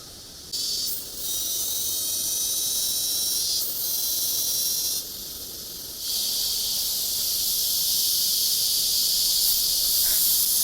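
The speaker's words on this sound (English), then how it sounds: "I think it's this small black, almost hornet-looking creature which is clinging on to the tree." Loud, continuous high hissing buzz from a small black hornet-like insect clinging to a tree in French Guiana forest, steady with brief dips and swells in intensity, no talking.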